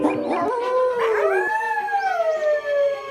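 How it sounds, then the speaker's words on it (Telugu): A single long canine howl, a wavering cry that rises and then slowly falls, loud and close, with nothing else behind it. "తన సహజ లక్షణంతో తాను కూడా అరచింది"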